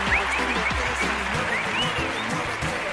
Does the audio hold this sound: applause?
yes